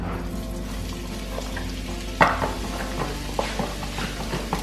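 Onions frying in olive oil in a pan, a steady close sizzle with a few sharper crackles and stirring knocks, no voices.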